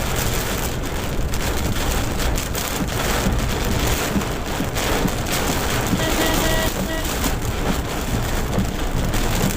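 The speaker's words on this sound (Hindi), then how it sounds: "आपको आवाज़ आ रही होगी, झमाझम बारिश हो रही है" Heavy monsoon rain pours steadily on the road between Haldwani and Kichha, India, a loud dense hiss of drops drumming on surfaces that continues without pause.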